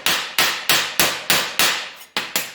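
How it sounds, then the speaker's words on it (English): A metal crown panel is laid flat and hammered down onto a table, giving about eight sharp, ringing metallic blows in a steady rhythm, loud and close, each decaying quickly. "All I did was lay it flat on the table, and I just hammered down onto the table"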